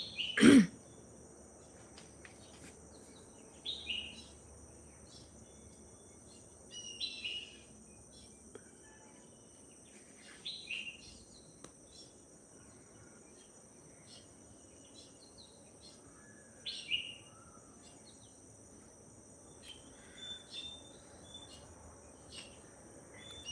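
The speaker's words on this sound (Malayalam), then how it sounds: "പലതരം കിളികളുടെ സൗണ്ട്" Morning birdsong from various birds: sparse, faint chirps recur every few seconds over a steady, high insect-like drone, with a single louder knock at the very start.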